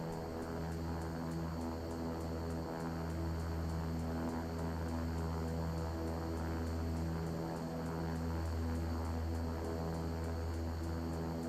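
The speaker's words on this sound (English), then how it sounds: "And now the right engine is going to start turning over." A King Air 350 turboprop's right engine spooling up in X-Plane 11, a steady droning hum with a high whine that holds evenly throughout.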